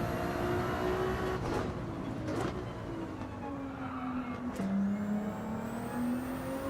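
Ferrari race car engine in Gran Turismo 7 droning steadily at high revs, pitch sliding up and down through gear changes and corners, loud and continuous with no talk.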